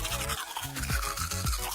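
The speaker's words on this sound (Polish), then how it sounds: "Umyję ci zęby. Psia szczoteczka." Brisk scrubbing of a dog toothbrush against a dog's teeth, close and rhythmic, in short rapid strokes with no talking.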